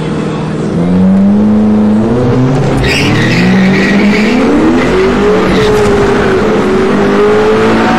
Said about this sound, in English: this is our boy Sean, racing a WS6.